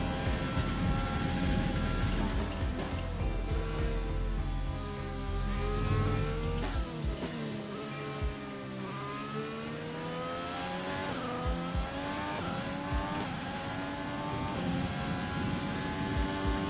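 A McLaren Formula 1 car's engine screams through shifting revs in F1 2020 racing gameplay, with repeated upshifts and downshifts and tire noise, continuous and moderately loud with no speech.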